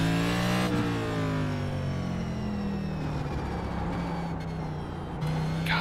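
A NASCAR race car engine in a racing video game, on the Los Angeles Memorial Coliseum short oval, drones loudly and steadily with falling and rising pitch sweeps as it slows and accelerates, no voices.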